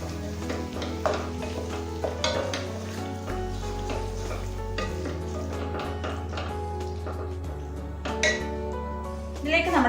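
Chicken being mixed with turmeric powder for Hyderabadi biryani, with soft stirring and occasional clinks of a spoon on the vessel, set under background music with a low steady drone.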